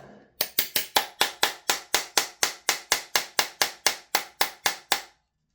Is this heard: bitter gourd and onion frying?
no